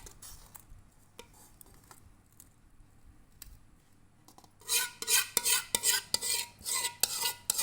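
Watermelon pudding mixture is poured and stirred in a cooking pot, with quiet faint clinks at first, then close, rhythmic scraping strokes of a spoon against the pot that grow louder toward the end, with no talking.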